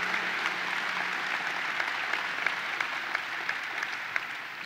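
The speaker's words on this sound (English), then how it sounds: "Let's give them a round of applause, Junior Islanders and the Junior Sabres" Steady applause from the audience at a state fair opening ceremony, greeting the Junior Islanders and Junior Sabres youth hockey teams; continuous even clapping with a few sharper claps standing out, no talking.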